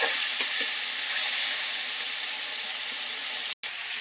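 Food frying in a pan hisses and sizzles steadily after a spoonful of water is poured in and stirred, with a brief sharp clatter near the end.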